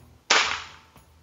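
A single shot from a Neo GNT Titanium v2 air rifle lands as one sharp, loud crack with a brief decaying hiss, and a faint click follows about half a second later; close, no talking.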